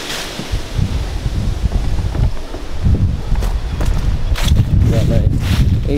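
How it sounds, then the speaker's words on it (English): Strong northwest wind of a South Dakota blizzard buffets the microphone in loud, continuous roaring gusts outdoors at a home, with someone talking over it for much of the time. "Well, look at how windy it is. You won't be able to hear me."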